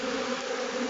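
Stingless Melipona bees, Melipona mimetica, swarm at a feeder with a steady, dense, close buzzing drone that holds level throughout and has no voices over it.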